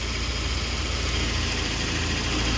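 A small-engined car idling at close range, a steady even hum with a low rumble and broadband hiss that holds unchanged throughout, with no talking.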